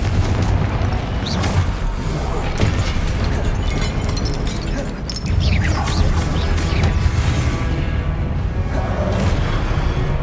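Repeated fiery spell blasts from Confringo casting in Hogwarts Legacy, the video game, a steady barrage of booming explosions and bursts over dense rumbling game noise for the whole stretch, loud and close.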